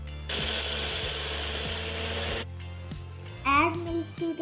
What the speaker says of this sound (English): Grind mangoes into juice.